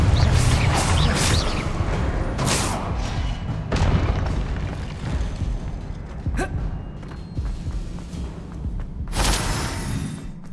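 Confringo explosion spells cast in the Hogwarts Legacy video game, a series of heavy booming blasts with rumbling, crackling tails, the bursts loud and close over a constant dense backdrop of game noise.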